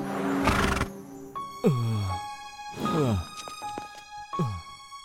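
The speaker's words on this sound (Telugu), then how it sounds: "వీర్, అటు చూడు, బంటి మన గుర్రాన్ని గుద్దేశాడు." A horse neighs and whinnies repeatedly, several loud descending whinnies with pauses between, the last ones shorter, with no talk over them.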